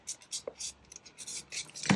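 A small leftover piece of paper ephemera is folded in half by hand, giving soft, brief scratchy rustles and light taps close to the microphone, with faint whispered speech in between.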